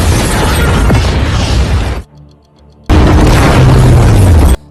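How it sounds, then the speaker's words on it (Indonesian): A loud, sustained explosive roar from a factory blast fills the air, cuts off briefly to a low rumble, then a second massive blast roars back just as loud. "Setelah ledakan mereda"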